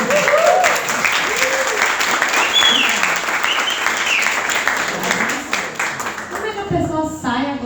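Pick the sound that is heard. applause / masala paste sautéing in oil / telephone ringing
applause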